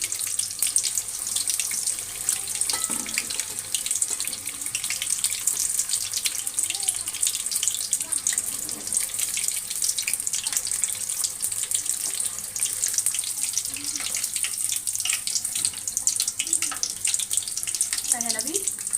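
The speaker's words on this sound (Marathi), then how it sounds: "मी सगळ्या मिरच्या असं तेलामध्ये सोडून घेणार आहे" Whole green chillies fry in hot oil for Marathi-style mirchi vada, a loud, steady, dense sizzle that runs without a break for the full length.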